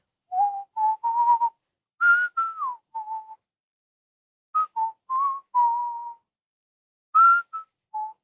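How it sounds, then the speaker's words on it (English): Someone whistles a melody for a song: a run of short, clear whistled notes in bright phrases, with pauses between groups, heard alone and up close. "we could do a whistle solo"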